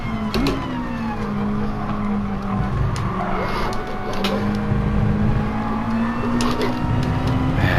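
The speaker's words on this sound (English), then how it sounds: "The rear stepped out. I would have had him, but the rear stepped out." Mazda Roadster touring car in GT Sport with its rear stepping out, tyres squealing in a sustained skid over the steady engine drone, close and continuous throughout.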